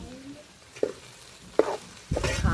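A spoon stirs chili powder into brinjal and drumstick curry frying in oil, giving a few soft, separate scraping strokes over a quiet sizzle that swells near the end.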